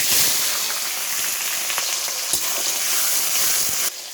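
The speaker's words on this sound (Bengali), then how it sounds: "এখন দিয়ে দিচ্ছি কাঁচা পেঁয়াজ" Raw onions hit hot oil in a kadai with cumin and dried chilli, giving a loud, dense, steady sizzle that holds throughout and then drops abruptly near the end.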